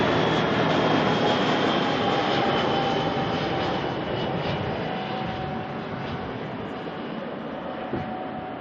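An Airbus A320 passenger jet at Auckland Airport at night produces a broad, steady engine roar that slowly fades as it moves off, fairly loud and alone.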